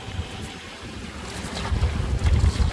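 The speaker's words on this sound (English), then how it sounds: "The wind's coming up all the time at the moment." Wind rushes across a sailboat as it runs past a headland toward Cape Richards, a steady roar with gusty low buffeting and splashing water that swells louder toward the end, with no voices.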